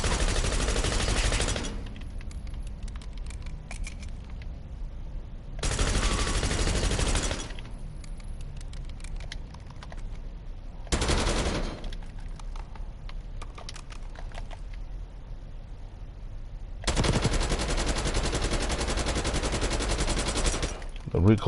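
Bursts of rapid automatic gunfire in Call of Duty Black Ops 6 multiplayer, several loud sustained volleys separated by short gaps, close and dominant.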